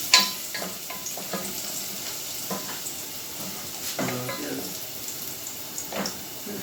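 Garlic frying in a hot pan for ginataang kalabasa with zucchini, a steady soft sizzle throughout with light scraping and stirring clicks, fairly quiet and close.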